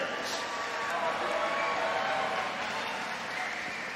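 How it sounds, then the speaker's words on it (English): Crowd at a BKFC bare-knuckle championship fight clapping for two fighters after five rounds, a steady wash of applause and cheering throughout, with an announcer's voice over it. "let's have a round of applause for these 2 warriors"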